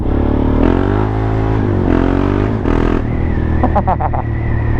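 A KTM Duke 690 single-cylinder motorcycle from 2017 is heard close up. Its engine rises through repeated revving pulls with shifting pitch, ending in a few sharp throttle blips over a steady thump, and no one speaks.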